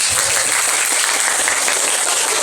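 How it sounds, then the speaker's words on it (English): Steady, dense applause from a crowd, loud and continuous throughout with no pauses. "Let us give vote teams another well-deserved round of applause"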